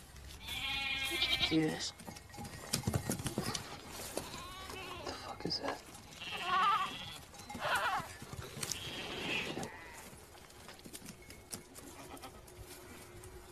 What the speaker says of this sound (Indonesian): Terlihat beberapa ekor kambing yang mengarah ke mereka